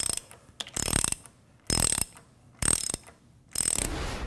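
Jacking bolt being tightened on a Gorman-Rupp Super T10 pump, pulling the rotating assembly from the volute: four loud bursts of ratcheting wrench clicks, each about a third of a second, with short silent gaps between them, close by and with no talk.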